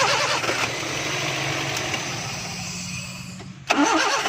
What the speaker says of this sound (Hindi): अब हम गाड़ी को सलफ लगाएंगे।